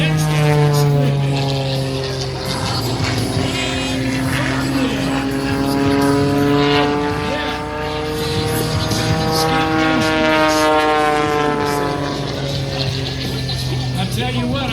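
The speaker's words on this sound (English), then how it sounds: "there's nothing finer than an airplane coming right at you doing about 250 miles an hour" An aerobatic propeller airplane flies low and fast at a 2023 airshow in Martinsburg, its loud engine drone rising and falling in pitch as it passes close by, with a commentator talking over it.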